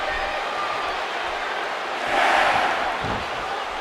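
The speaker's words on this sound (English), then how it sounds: "You can hear the chants from the fans" A large crowd in a wrestling video game roars and chants in a continuous wash of noise, swelling louder partway through before settling back.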